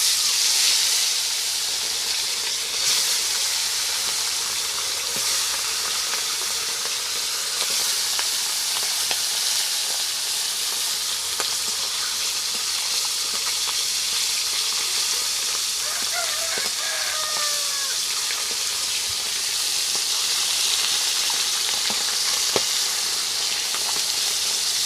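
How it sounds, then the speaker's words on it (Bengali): Tilapia fish frying in hot oil in a wok, a loud continuous sizzle and hiss with faint crackles throughout, no talking. "তেলটা গরম হয়ে গেছে। মাছগুলো দিয়ে দেবো।"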